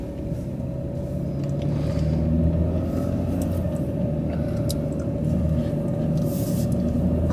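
Steady low interior rumble of a car driving along a road, a constant drone with a faint engine hum holding level throughout, no speech over it.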